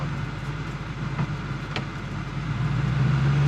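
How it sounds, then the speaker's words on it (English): A 1935 Chevrolet Master rattling as it drives, with a steady loud road and engine rumble filling the cabin, faint rattles on top and a low drone that grows slightly toward the end. "That rattle would mostly be rectified if that window were down."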